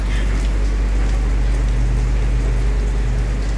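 Dense, even hiss of rain falling outdoors along a road trip route toward Urubici, Santa Catarina, with a strong low rumble underneath, steady and loud throughout with no talk.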